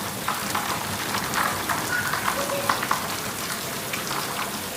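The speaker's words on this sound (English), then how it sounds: "We hear the rain coming, but then the rain gets a little harder." Heavy rain pours steadily, a dense hiss of drops pattering on surfaces with no voices, constant and close throughout.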